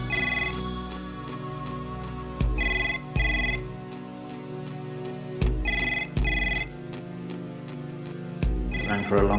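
A telephone rings again and again with no answer, each ring a loud, close double trill separated by pauses, repeating over several cycles.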